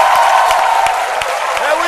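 Studio audience at an Ivorian TV variety show applauding, a steady dense wash of clapping with a few scattered whoops, loud and close for the whole stretch.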